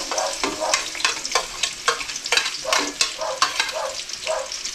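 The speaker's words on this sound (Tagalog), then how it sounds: "Ilagay na po natin ang ating mga bawang at medyo low fire lang po ha." Garlic frying in hot oil over low heat, a steady crackling sizzle with rhythmic stirring scrapes repeating every half second or so, close and moderately loud, with no talking.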